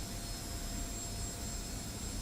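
An F-86 jet engine in DCS World steadily throbs and whines as it spools up for taxi, a continuous even roar with no voices over it.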